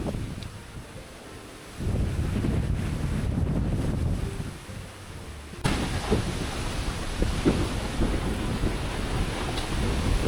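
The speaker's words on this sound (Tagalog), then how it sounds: "Grabe, lakas pa rin na ulan. Mahangin." Typhoon-force wind roars continuously against the microphone in buffeting gusts, with a steady wash of heavy rain underneath.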